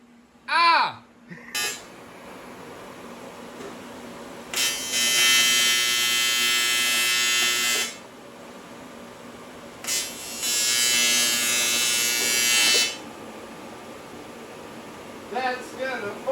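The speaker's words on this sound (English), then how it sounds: "I'm trying to weld through fucking plastic" Welding on an NSX trailer floor, burning through plastic: two sustained crackling, buzzing bursts of roughly three seconds each, loud and close, with brief speech before and after.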